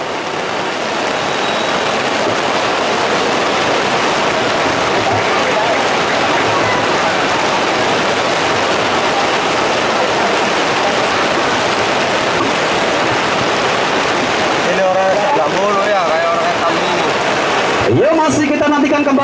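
Heavy rain pours steadily across an outdoor football match between Argun FC and Sedulur FC at the Kuwu Cup, a dense continuous hiss lasting throughout, with brief commentator voices breaking in near the end.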